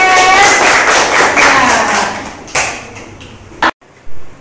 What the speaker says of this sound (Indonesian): Ya, tepuk tangannya yang keren